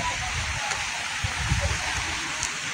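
Waterfalls in the Blue Mountains give off a broad, steady rushing hiss. It stays constant through the short stretch, with faint wind-like bumps and no clear voice.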